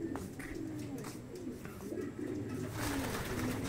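Racing pigeons coo steadily in a loft, a low, throaty murmur of several birds close together in an enclosed space, with no talking.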